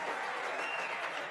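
A snooker crowd at the Masters breaks into steady applause for a pot, a dense continuous wash of clapping filling the hall throughout.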